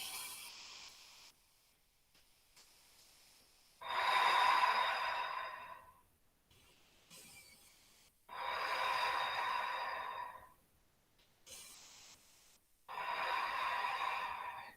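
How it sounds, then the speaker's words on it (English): Slow, deep yoga breaths, drawn-out airy exhales repeating in long swells a few seconds apart, close and quiet with soft pauses between. "Breathing."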